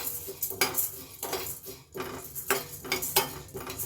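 Toor dal dry-roasting on low heat in a steel pan, stirred with a metal spoon, makes quick rhythmic scraping and clinking strokes close up, with no voices.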